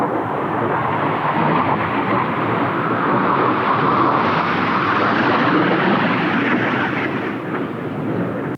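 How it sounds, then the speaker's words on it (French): Three military airplanes passing overhead, a loud continuous roaring rumble that fills the whole stretch at a steady level before easing slightly at the end, with no speech. "il y a 2 avions militaires qui sont en train de passer derrière moi, 3 avions même"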